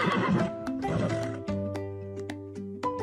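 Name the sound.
horse neighing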